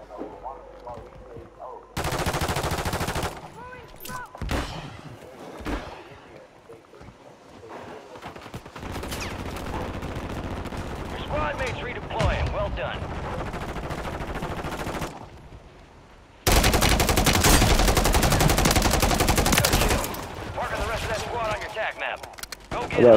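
Call of Duty gameplay with bursts of rapid automatic gunfire, loud sustained volleys separated by quieter gaps, with players talking over the shooting.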